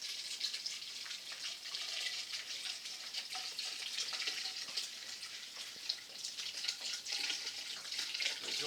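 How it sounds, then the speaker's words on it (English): Water poured into a glass jar, a continuous bright splashing and trickling stream, close and fairly soft, running steadily with small fluctuations and no talking. "I don't know if anybody's going to be very interested in seeing me pouring water into this glass jar."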